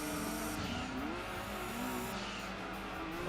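In Gran Turismo 2, a race car engine drones steadily at high revs with pitch sliding up and down as the car corners, tires faintly squealing underneath, loud and constant with no speech.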